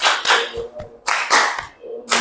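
A classroom of students claps together in a counting game during an English lesson, giving a few sharp group bursts separated by short pauses.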